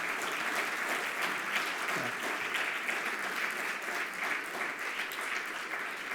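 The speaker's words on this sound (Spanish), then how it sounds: "me han aplaudido mucho" Sustained audience applause after a science lecture in a hall, a dense, steady wash of many hands clapping at even loudness throughout, with no speech over it.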